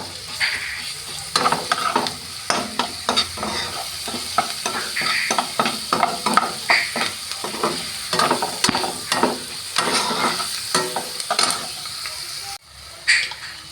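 Chopped onion and garlic frying in a pan for a chicken sandwich: steady oil sizzle under repeated rhythmic scrapes and clacks of a spatula stirring, close and fairly loud.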